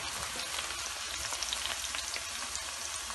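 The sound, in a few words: onions frying in a pan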